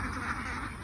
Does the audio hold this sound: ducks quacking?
yes